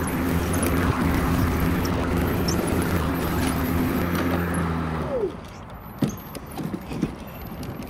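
A Ryobi 40V self-propelled electric lawn mower running on a 48V battery, a loud steady whine and hum for about five seconds that then winds down, with a few scattered clicks and knocks after it stops.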